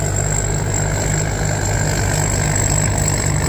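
A heavy diesel engine of a Hino rice combine harvester truck with a new Eaton pump runs steadily nearby, a deep continuous rumble with a faint high whine on top, unchanging throughout.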